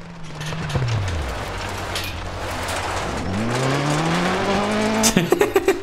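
Rally car in Dirt Rally 2.0 spinning donuts on gravel, with the engine revving up and down, pitch dropping then climbing again, rumbling tires and skidding, ending in a string of rapid sharp pops.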